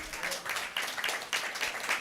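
A church congregation clapping during a Tamil sermon, a brief run of moderately loud scattered handclaps.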